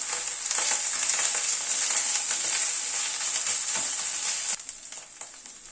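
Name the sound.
frying ginger, onion and garlic paste while stirring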